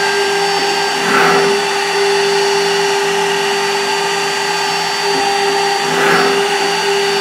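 A small 2x2 Phoenix CNC router with Centroid Acorn control and DMM AC servos runs steadily, a constant high whine with a strong tonal hum that swells gently twice as the cutter moves.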